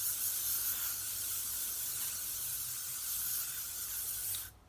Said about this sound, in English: And then again with the hairspray.